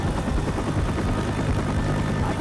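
Steady helicopter rotor and engine drone in Left 4 Dead 2, a dense, loud low rumble with chopping pulses that continues unbroken, with no talk over it.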